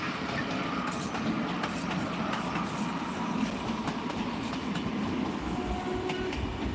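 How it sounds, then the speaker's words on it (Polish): A Pomorzanin passenger train of just two carriages passes through Wrocław, its steady, loud rumble and rail clatter filling the whole stretch with no voices. "o jedzie Pomorzanin. Pomorzanin, e, tylko dwa wagony"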